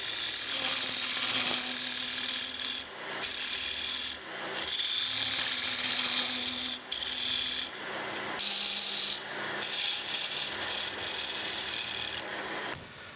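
Scraping tool cutting a spinning wooden foundry pattern for a steam stoker engine valve down to diameter on a lathe, a steady close rasping scrape in long passes broken by short pauses.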